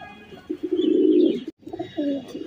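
A pair of grizzle pigeons coos up close in soft, throaty rolling calls, two phrases with a short pause between, and no talking.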